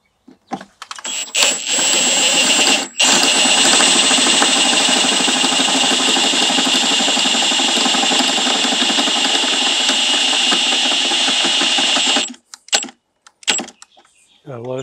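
A power drill bores an 11 mm hole for barn door modifications, a loud sustained whine running for about ten seconds before stopping, with a short break near the start and clicks and handling noise afterward.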